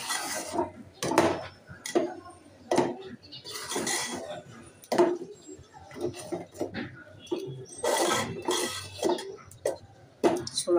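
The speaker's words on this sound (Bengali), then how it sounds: "এবার আমি এটাকে নাড়া দিয়ে নিচ্ছি।" Aparajita pitha batter being stirred in a pan on the stove, with repeated scraping and clattering strokes of a spoon against the metal, close and steady in irregular bursts.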